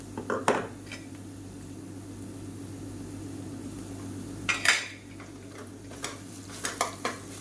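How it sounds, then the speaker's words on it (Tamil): Ginger garlic onion paste being sautéed in a pan while cooking meal maker (soya chunk) kulambu: a few sharp spoon scrapes and clanks against the pan over a steady low hum, with long quiet gaps between. "இதையும் சேர்த்து நல்லா வதக்கி விட்டுக்கலாம்"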